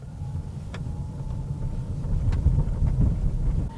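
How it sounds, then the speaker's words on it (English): A Mercedes EQB 300 electric SUV driving down a bumpy neighborhood road with potholes, patches and speed bumps, heard from inside as a low rumbling road noise with several dull thumps and knocks from the suspension. "let's take it down our neighborhood bumpy road with its potholes, patches, and speed bumps"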